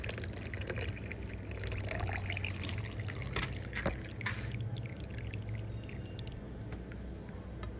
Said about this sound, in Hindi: तो अभी स्ट्रेनर की मदद से इसको छान लेंगे हम।